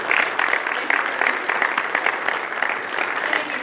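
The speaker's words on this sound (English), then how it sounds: "Everybody give Lindsay a round of applause" Conference audience applauding a speaker at a wheat reporting session, a steady, full round of clapping with no break, moderately loud.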